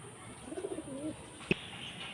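Fancy-breed pigeons kept for sale give a short soft run of low coos nearby, followed by a single sharp click.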